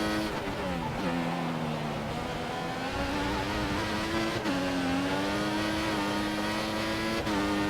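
Formula One car in F1 2014 racing at the Australian Grand Prix on worn rear tyres, its engine screaming steadily under throttle with rising and dipping pitch as gears and revs shift, loud and continuous from onboard.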